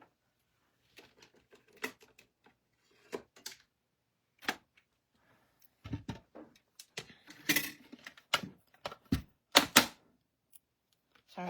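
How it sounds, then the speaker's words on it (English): A small cut-and-emboss machine feeds cardstock through its rollers in a series of irregular clacks, ticks and crunching bursts, growing busier and louder toward the end, close by with no talking. "let me grab my cut and emboss machine"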